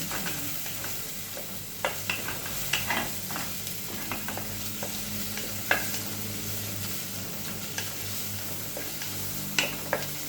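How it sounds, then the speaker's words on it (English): Mushrooms being stirred in a pan while making butternut soup, a steady soft frying sizzle broken by irregular scraping and tapping of the utensil, close and moderately quiet, with no talking. "put in our mushrooms, then we also put in, you can chop them a bit to some length and keep stirring"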